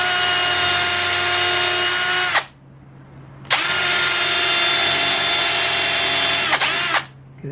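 A power drill drives a small countersunk screw into a wooden chair stretcher during a furniture joint repair, heard as two sustained whirring runs of about two and three seconds with a short gap between, loud and close, with no talking.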